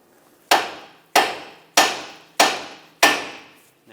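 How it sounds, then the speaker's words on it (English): A hammer strikes the steering knuckle of a 2014-2021 Mazda 6 to free the outer tie rod stud: five sharp, evenly spaced metallic blows, close and loud, each decaying into a short ringing tail. "Tap the knuckle on the side with a hammer, and that should separate the tie rod stud from the knuckle"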